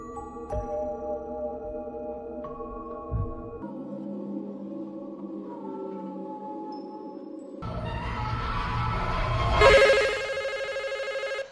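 A telephone rings in a tense scene from the 2022 horror film Smile, with repeated electronic tones over sustained eerie music that swells louder toward the end, and no speech.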